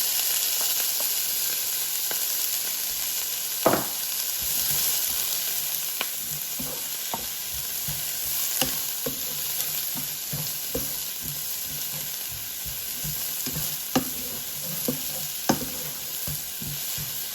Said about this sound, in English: Next, you saute the vegetables with just some salt, like this.